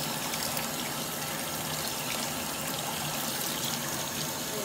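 Tap water runs steadily from a kitchen faucet, splashing and trickling onto a rag being wetted for cleaning knives, a continuous close hiss with no talk.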